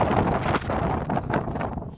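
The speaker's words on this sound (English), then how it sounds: "We get a lot of high winds from the southeast" High wind sweeps across a ranch in South Texas, buffeting the microphone with loud, steady roaring gusts that rise and fall, with no one speaking.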